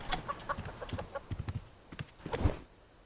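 Chickens cluck in a farming video game, a series of short, close clucks at an uneven rhythm, with a few louder peaks near the end and no talk over them.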